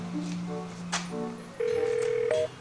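A telephone call rings out with steady electronic tones, a pitched beep holding for about a second over low background sound. No one speaks.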